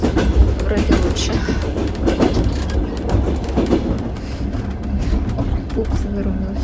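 A passenger train rides past Dnipro, heard from on board as a loud, steady low rumble with faint rhythmic clatter of wheels running throughout.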